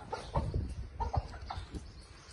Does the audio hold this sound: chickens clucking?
yes